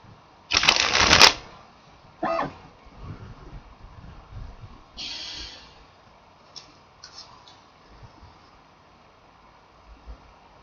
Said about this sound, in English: I'll be busy here playing with my cards.